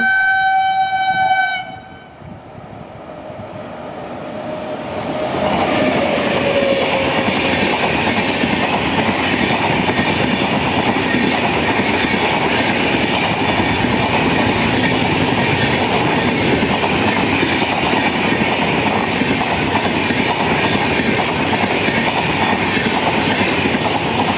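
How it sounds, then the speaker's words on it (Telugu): A Tamil Nadu Sampark Kranti superfast train from Madurai to Hazrat Nizamuddin runs through Jammalamadugu railway station without stopping, its horn sounding briefly before a loud, sustained roar of wheels and carriages rumbling past close by. "train number one two six five one Madurai Hazrat Nizamuddin Tamil Nadu సంపర్క్రాంతి super fast జమ్మల్మూరు railway station అనేది స్కిప్ చేస్తుంది"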